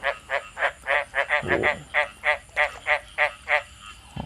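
Frogs in an earthen fish pond croak in a steady, rapid series of about fifteen loud, evenly spaced calls, close by, with a brief low rumble partway through.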